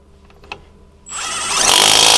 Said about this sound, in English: Use your deep 17mm with an impact to tighten the bolt.